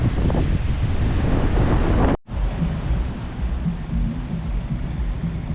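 Waves wash onto a beach in a continuous rushing surf, heavily buffeted by wind on the microphone, with a sudden brief dropout partway through.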